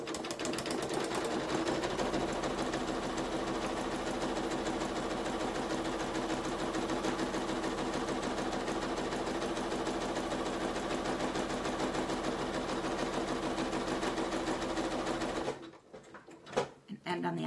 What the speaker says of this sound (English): And I'm going to stitch around it all again.